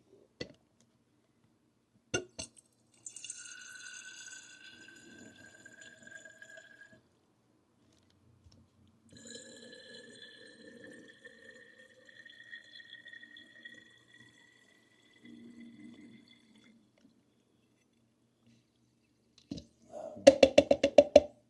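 An Aeropress plunger is pushed down through a triple layer metal filter, producing sparse drips and thin whistling air squeaks over several seconds, then a burst of hissing gurgle as the last air forces through, quiet and close.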